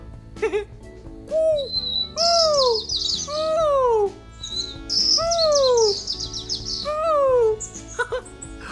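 A man imitates a bird, whistling a series of rising and falling chirps and trills, loud and close, with rhythmic bursts repeating over several seconds and no talking.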